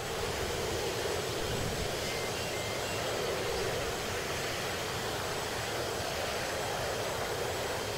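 A steady aircraft engine roar from a naval combat video game holds at a constant loud level throughout, a smooth unbroken jet-like drone with no voices.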